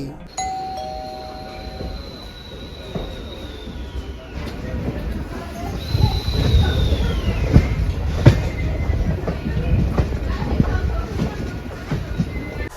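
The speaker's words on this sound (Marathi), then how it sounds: "नेहमी दररोज नित्यनियमाने सुटणारी डहाणू पनवेल मेमो ट्रेन" A Dahanu–Panvel MEMU commuter train runs along with a loud rumbling roar and rattling wheels, preceded by a ringing chime tone and a falling electronic whistle, with voices heard intermittently.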